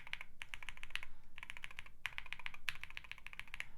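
Rapid typing on a QK65 R2 mechanical keyboard with lubed and filmed budget switches, bursts of soft, muffled, thocky keystrokes in quick clusters with short pauses, fairly quiet and close.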